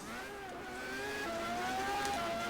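Alonso's Formula 1 car at the Japanese Grand Prix, a high whining engine note rising and shifting through gears, heard faint and somewhat distant as the car drives past.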